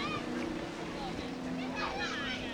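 Ski boat throttling up to pull a beginner water skier out of the water, a steady engine drone over water with a voice chattering faintly on top.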